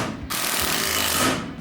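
A power impact tool drives in brake adapter bracket bolts on a 1967 Mustang fitted with 2015 Mustang S550 brakes: one loud, rattling hammering burst of about a second following a brief low whir, close by.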